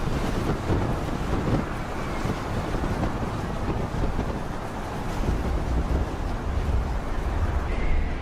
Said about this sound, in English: A chemical tanker crashes into waves over 10 meters high during a hurricane-force wind off the coast of Portugal.